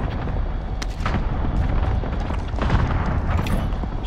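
Continuous gunfire and explosions in a Call of Duty Modern Warfare battle royale match, dense overlapping shots and booms throughout, loud and busy.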